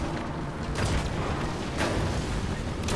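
Airstrike explosions in the tank battle game War Thunder, a dull continuous rumble with two heavier booming swells, heard at a distance, with no talking.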